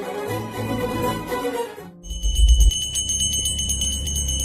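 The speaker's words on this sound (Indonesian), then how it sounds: "Sankar benar-benar membuka matanya ketika dia mendengar adiknya membunyikan lonceng doa" A prayer bell is struck once and rings with a bright, sustained metallic tone that lingers over low rumble, following a stretch of dramatic background music.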